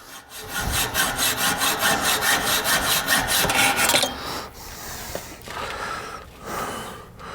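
A saw cuts through an air compressor's hard line in steady, rhythmic back-and-forth strokes for about four seconds. Quieter scraping and handling noises follow, with no talking.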